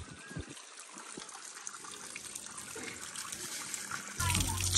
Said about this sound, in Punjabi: ਪਹਿਲੇ ਵਾਲਾ ਸਾਰਾ ਪਾਣੀ ਬਾਹਰ ਕੱਢ ਕੇ ਨਾ ਟੈਂਕੀ ਨੂੰ ਸਾਫ਼ ਕਰਕੇ ਫਿਰ ਨਵਾਂ ਪਾਣੀ ਭਰਾਂਗੇ